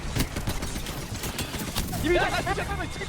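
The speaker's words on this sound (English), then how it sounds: "I'm gonna shoot you right now." Rapid gunfire from the Apex Legends video game during a pro league match, several quick bursts of shots close up, with players talking over it.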